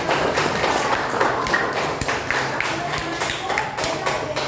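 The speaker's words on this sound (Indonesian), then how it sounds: "Tepuk tangan." Classroom of fourth-grade students clapping together, a dense patter of claps mixed with bumps and chatter, fairly loud and close throughout.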